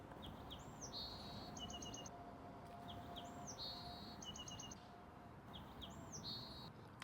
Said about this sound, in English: in this clip, let's introduce the birdies.